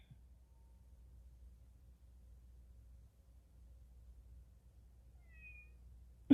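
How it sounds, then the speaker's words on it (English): In a video game set in an opera house, a cat gives a faint short meow, two quick high cries near the end over a quiet low hum, with a sharp click at the close. "It must be one of Jamie's cats."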